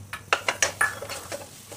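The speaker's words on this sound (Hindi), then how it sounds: "इसी में हम इस दाल को डाल के डाल देंगे।" Moong dal is tipped into spices and gram flour roasting in a kadhai and stirred, a quick series of light metallic scrapes and clinks from a spoon against the pan, close and without talk.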